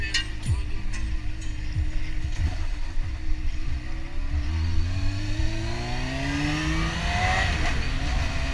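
A car engine revs and accelerates continuously, its rising whine loud and steady with wind and road rumble, during a Sunday drive through town.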